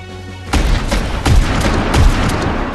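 Warship missile launches and naval gunfire from the mobile game Warship Mobile boom out in a string of loud, heavy explosions, three big blasts rolling over a constant crackling barrage with no voices.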